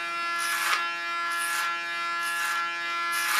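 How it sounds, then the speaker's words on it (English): Electric hair clipper buzzing steadily against the side of a woman's head during a side-shave touch-up, a close continuous hum that swells in four rhythmic passes as it moves through the hair. "Starting on the side shave, use a comb and use my clipper."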